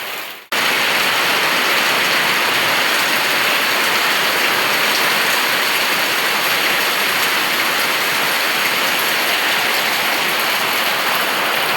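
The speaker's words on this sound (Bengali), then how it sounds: "সেই টাইমে আজকে বৃষ্টি নেমে গেছে।" Heavy rain pours down in a village on the eve of Eid with a loud, dense, steady hiss. It starts abruptly after a brief quiet moment and then stays constant, with no talking.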